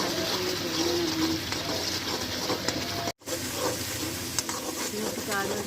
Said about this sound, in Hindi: इसी तरह से चम्मच चलाते जाएँ ताकि जो टमाटर है और लहसुन और हरी मिर्च है उसका अच्छी तरह से पेस्ट बन जाए।